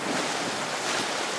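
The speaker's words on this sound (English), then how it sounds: "The wind just starting to pick up." Steady roaring wind and rushing water over the open sea while a sailboat rounds Point Conception, a loud continuous wash with no voices.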